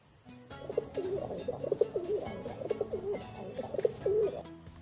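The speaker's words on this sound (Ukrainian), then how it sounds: "Давайте послухаємо, як він воркує." Soft, rolling coos from a pigeon repeat in a steady rhythm, fairly close, with a faint background hum.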